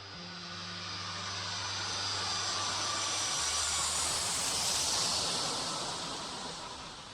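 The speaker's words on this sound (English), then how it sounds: "Japan Airlines Flight 123 takes off at 6:12 p.m." A Japan Airlines jet airliner's engines roar steadily as it takes off, a broad rushing hiss swelling and then slowly fading, with a low hum early on.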